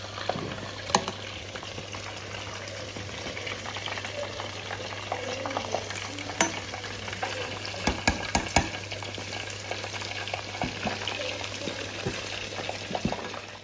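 Fried chicken pieces frying in hot oil as a second batch cooks, a steady close bubbling hiss with scattered louder pops and crackles throughout.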